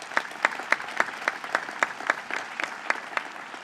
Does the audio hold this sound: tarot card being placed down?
no